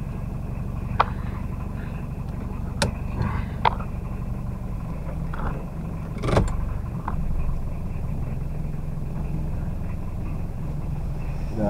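A car is moved to another parking spot at a campsite in heavy rain, its engine running low and steady with a few faint knocks and clunks in the background.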